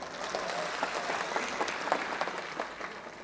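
A crowd applauds at a BTAD election campaign rally in Harisinga, a steady wash of many hands clapping at moderate distance, with no break and no voices rising above it.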